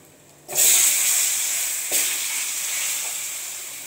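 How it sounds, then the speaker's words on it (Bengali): Potato pieces hit hot oil about half a second in and burst into a loud, steady sizzle that continues with a few light stirring knocks. The potatoes are being fried for a Bengali rui fish and potato curry. "আলুটা ভেজে নেবো"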